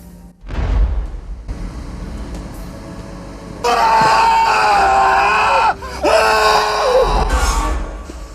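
A man screams loudly in a horror film scene, a long sustained wail broken by a brief pause, layered over a dense, rumbling score and sound effects.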